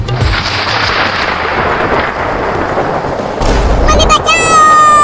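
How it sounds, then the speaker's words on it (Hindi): A deep, loud rumble of thunder rolls over heavy rain, followed by a voice speaking near the end. "मम्मी बादल गरज रहा है और बिजली भी गिर रही है।"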